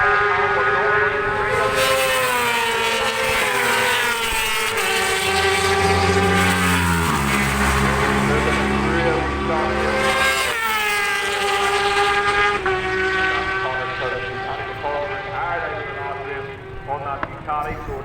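Ducati racing motorcycles at Bishopscourt circuit in County Down, Northern Ireland, with engines rising and falling in pitch as bikes pass close by, loud and continuous under steady race commentary.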